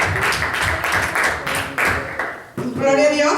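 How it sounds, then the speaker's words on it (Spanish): Church congregation clapping together in a steady burst of applause, loud and close, with voices mixed in and a spoken line rising near the end. "Den un aplauso, hermano"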